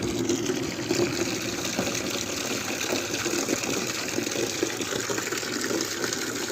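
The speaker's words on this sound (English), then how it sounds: "And after that I am going to add some tap water in it." Tap water gushing steadily into a tub of hot water set out for hand-washing a king-sized comforter at home, a continuous broadband splash with no talk.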